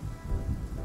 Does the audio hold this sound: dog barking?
no